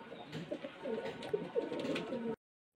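Pigeons cooing in a loft kept for sale, soft repeated throaty coos overlapping at close range, with faint rustling behind them, then silence.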